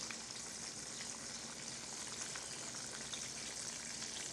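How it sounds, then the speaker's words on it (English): Bread fries in a pan with a steady, dense sizzle and crackle, close and continuous with no voices. "Ain't doing nothing but frying bread."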